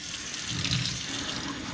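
Hot tap water runs steadily into a glass Snapple bottle being rinsed out with a little soap, a continuous close splashing wash with no talking.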